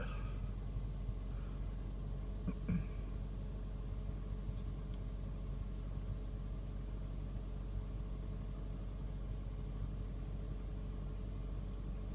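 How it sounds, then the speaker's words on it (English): A Subaru engine runs steadily at idle with its revs raised a little, a continuous low mechanical drone heard close up outdoors for the full stretch, with no voices. "Get a little RPM up and"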